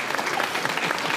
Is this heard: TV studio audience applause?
yes